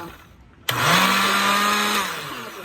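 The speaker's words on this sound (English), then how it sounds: "I'm going to put it on the blender. I'm going to blend it on pure" A blender starts abruptly and roars loudly, grinding and rattling as it chews through frozen fruit, its motor pitch steady.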